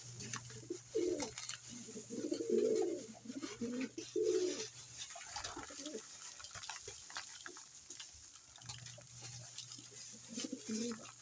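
Pigeons coo in repeated soft, throaty bursts close by, several birds overlapping, with pauses between phrases and a steady low hum underneath, while the keeper quietly feeds them grit and probiotics.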